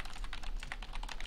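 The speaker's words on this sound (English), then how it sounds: "Who the hell's typing?" Rapid keyboard typing on a computer keyboard, a steady run of light clicking keystrokes heard close and alone, with no voices over it.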